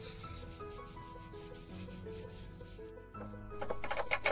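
Kencur and salt are ground together by hand for a tofu recipe, giving soft repeated scraping and rubbing strokes up close, with a brief pause before slightly louder grinding resumes.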